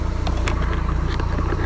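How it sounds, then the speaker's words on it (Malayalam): A Honda Civic with a custom low-budget valvetronic exhaust, heard up close with the throttle pulled, giving a loud, deep engine rumble with a fast, regular pulsing throb. "ഇതാണ് ത്രോട്ടിൽ വലിച്ചിട്ടുള്ള സൗണ്ട്."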